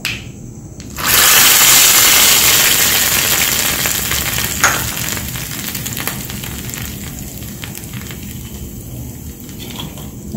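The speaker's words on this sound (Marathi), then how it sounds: "याच्यामध्ये आता हा तडका आपण टाकून द्यायचा आहे केलेला." Hot tadka tempering poured into a turmeric chutney for dosa sets off a sudden loud, close sizzle that bursts in after a second of quiet and then crackles steadily, easing slightly as the oil cools.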